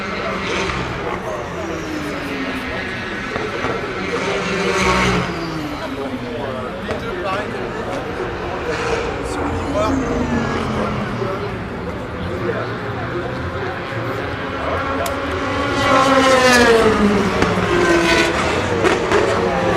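The leading Toyota prototype race car passes at night during the 2016 Le Mans 24 Hours. Its engine note rises and falls through the steady roar of the track and crowd, and voices can be heard over it.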